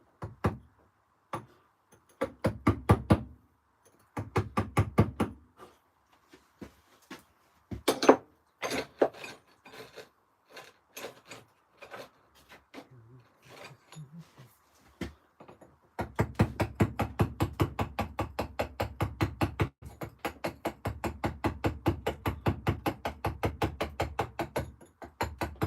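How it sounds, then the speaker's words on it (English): A 6mm chisel struck against stone during a carving session: sparse, sharp taps with pauses at first, then a steady, rapid run of close, crisp strikes through the second half. "I've gone straight back in with that 6mm chisel."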